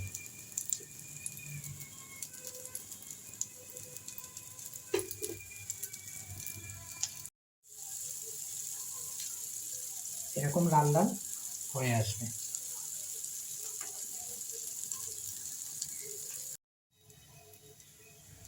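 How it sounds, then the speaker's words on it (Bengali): Cauliflower tikkis fry in hot oil in a frying pan, giving a steady, close sizzle that runs under a speaking voice, with brief pauses and a couple of louder bursts. "প্যানের মধ্যে টিকিয়াগুলো একটা একটা করে"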